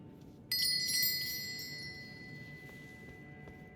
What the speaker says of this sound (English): Little bell trap.